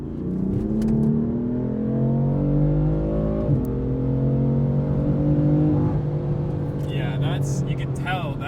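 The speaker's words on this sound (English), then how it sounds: "I'm going to do a third gear pull with the VF tune on an empty road." A twin-turbo BMW M4 with a VF tune pulls hard in third gear on an empty road, its engine note rising steadily and loudly with a brief dip, then spooling sounds near the end.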